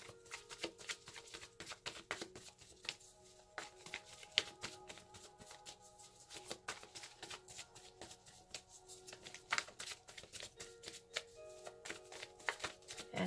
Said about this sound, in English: And after a good shuffle,